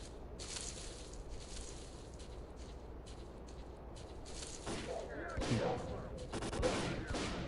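Rapid bursts of distant gunfire in S.T.A.L.K.E.R.: Call of Pripyat crackle over a steady low rumble, growing louder and more intense toward the end.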